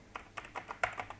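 Quick computer keyboard keystrokes tap out a copy shortcut, six or seven light, crisp clicks in brisk rhythm, close and quiet with no talk.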